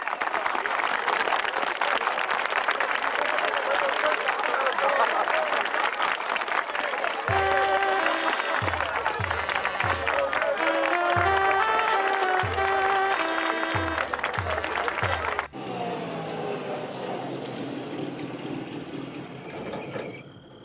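A crowd applauds at a Spanish television show, steady and full at first, then a run of tonal, musical notes takes over beneath the fading clapping before a quieter, thinner stretch at the end.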